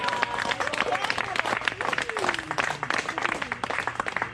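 Party guests at a celebration break into applause, a dense patter of many hands clapping at once with crowd murmur mixed in, sustained and moderately loud throughout.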